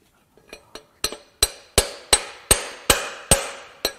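A hammer strikes the metal piston of a Honda J35 V6 engine about a dozen times, sharp ringing clanks that grow louder and come faster as the blows continue.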